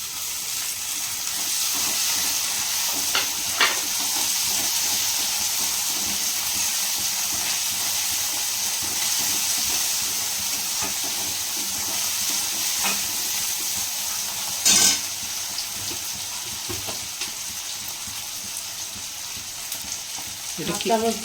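Onions sizzling steadily in a pan for a tadka dish, a loud continuous hiss with occasional scraping and stirring clicks, and a short louder burst partway through as tomatoes go in; voices are briefly heard.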